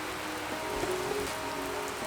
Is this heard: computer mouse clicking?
no